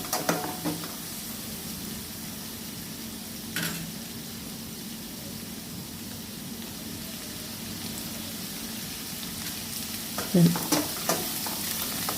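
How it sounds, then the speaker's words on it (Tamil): Onions sautéing with turmeric in a pan for a kuzhambu, a steady low sizzle with a few louder stirring clatters near the start, middle and end, no voices. "மஞ்சள் போட்டு கொஞ்சம் வெங்காயம் நல்லா வதங்கட்டும்"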